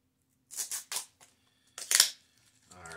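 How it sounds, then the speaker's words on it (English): A few crisp snips of scissors cutting through packaging, close up, in two short bursts with quiet between them. "You just went in with the scissors"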